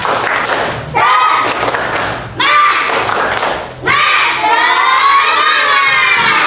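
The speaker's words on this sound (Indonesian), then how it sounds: "Ayo coba tepuk semangat" Children shouting and cheering together in a school gathering in three loud bursts, each opening with a sharp thump and swelling into a noisy crowd roar, with voices rising high between the bursts.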